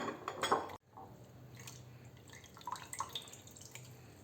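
Soaked flattened rice (aval) being squeezed by hand in a vessel, with a soft, close wet squelch and splashing drips, a brief clink of the pot, and quiet dripping afterward.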